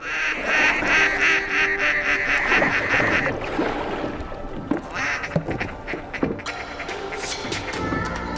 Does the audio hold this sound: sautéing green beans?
no